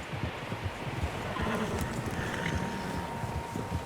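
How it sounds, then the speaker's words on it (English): Horses gallop in the Red Dead Redemption 2 video game, hooves drumming in a quick steady rhythm at moderate distance over a windy outdoor ambience. "Horses, quite a few of them."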